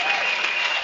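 A church congregation bursts into applause, a dense steady clapping that fills the whole brief moment without pause.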